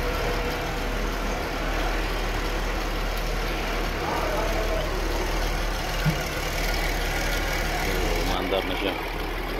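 A 2009 GMC Acadia engine idles steadily at close range, a constant low hum running the whole time with a brief click near the middle.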